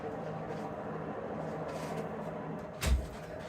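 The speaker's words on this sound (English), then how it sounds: "Dog opened the door and then you can hear us doing laundry." A dog nosing open an interior house door, a single soft knock and bump near the end after quiet room tone, with faint household laundry activity behind it and no speech.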